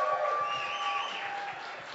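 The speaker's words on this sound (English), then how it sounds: "Let's have a big round of applause for our audience here tonight." Audience applause at a students' union election results night in Leeds, a dense, steady wash of clapping from a crowd that stays even throughout this short stretch.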